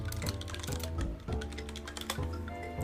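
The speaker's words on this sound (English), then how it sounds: "Everybody can hear me typing away." Rapid typing on a computer keyboard, a steady run of light clicks layered over tonal background music from Suikoden 3 gameplay.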